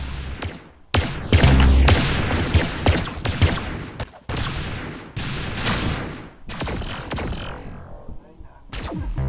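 Rapid bursts of gunfire from a shooting video game, loud and dense, with repeated volleys and brief gaps across the whole stretch.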